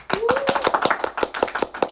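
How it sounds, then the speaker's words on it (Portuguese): A small studio audience claps for about two seconds, a brisk run of sharp, close hand claps with a short rising whistle near the start. "Palmas."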